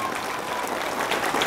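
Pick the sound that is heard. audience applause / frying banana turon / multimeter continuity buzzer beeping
audience applause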